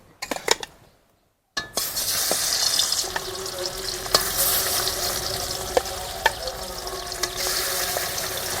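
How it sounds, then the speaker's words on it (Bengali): Boal fish pieces hit hot oil in a kadai one after another, giving a loud, close, crackling sizzle that starts suddenly after a brief silence and carries on steadily with small spatula clinks. "এবার মাছগুলো এক এক করে তেলের উপর দিয়ে দেবো।"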